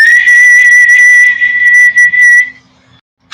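A voice imitates a mysterious little whistle humming through the air: a loud, close, pure sustained tone held for about two and a half seconds, wavering slightly and then breaking off into short fading bits.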